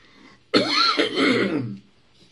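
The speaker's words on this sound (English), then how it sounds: "I need to clear my throat" One long, raspy throat clearing up close, a rough guttural rumble lasting over a second, with quiet before and after.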